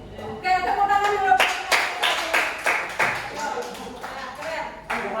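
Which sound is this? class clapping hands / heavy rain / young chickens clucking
class clapping hands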